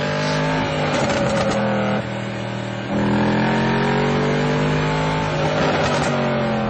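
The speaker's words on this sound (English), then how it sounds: "Leno blasts off from Mulholland on his lap of Los Angeles" A Mercedes-Benz SLS AMG blasts away from Mulholland in Los Angeles, its engine note loud and continuous, climbing through revs in rising surges with brief dips between gear changes.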